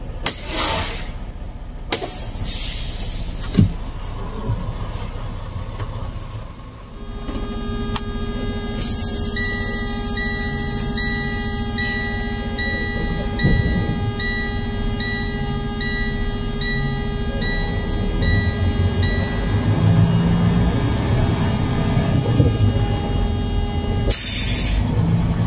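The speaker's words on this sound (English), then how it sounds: "Drop my trailer real quick." A semi truck drops a Red Mountain trailer: a brief burst of air and clanks at the start, then a steady engine idle drones on with tonal whine and occasional knocks, fairly close, ending with another sharp hiss.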